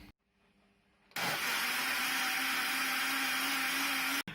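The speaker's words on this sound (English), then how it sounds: "put that much water in before blitzing the blender" A blender blitzes a plant-based health drink with water, starting abruptly after a short quiet pause and then roaring at a steady, loud whir before cutting off at the end.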